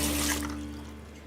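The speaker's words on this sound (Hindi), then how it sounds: "टैप बंद करो ना, पानी वेस्ट हो रहा है।" Water runs steadily from an open tap into a sink, a continuous close hiss that fades slightly over a brief moment, with no voices.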